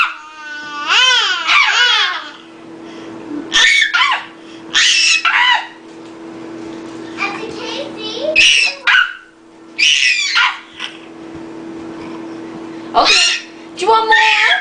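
A pet bird at dinner time lets out repeated ear-piercing screeches in short bursts spread across the clip, loud and close, alternating with quieter gaps and some human vocal sounds.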